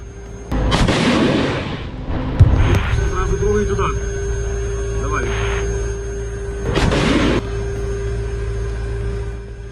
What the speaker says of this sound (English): Targeting the suspected Russian defenses, Bradley launches a tow missile.